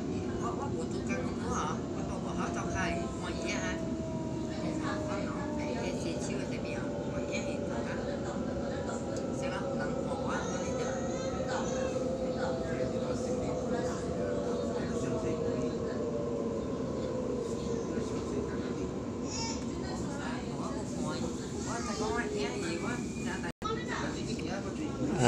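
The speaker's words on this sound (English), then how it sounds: "This train will stop at Wiley Park." A Sydney T3 Bankstown Line train rides along with a steady low rumble and whining motor tones that slowly fall, heard from inside the carriage at moderate level while an onboard announcement voice speaks over it.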